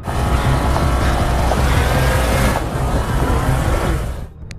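A car engine roars continuously in a desert film scene as the driver speeds toward a person, a loud sustained rush of engine and road noise that cuts off abruptly near the end.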